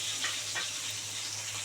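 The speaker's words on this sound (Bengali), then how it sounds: "2 পিস ভালো করে মাছ ভাজা হয়ে গেছে," Pieces of katla fish fry in hot oil, a steady, dense sizzle that continues unbroken and close up, with no talking.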